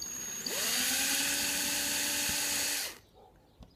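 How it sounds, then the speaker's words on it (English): A small power drill with a fine bit whines at high pitch for about two seconds, biting steadily into wood, then spins down and stops. "we literally take our bezel and our wood and we drill a pattern"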